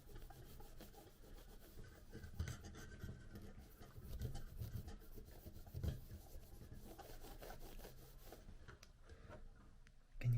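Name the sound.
rubbing over a remote control part to clean it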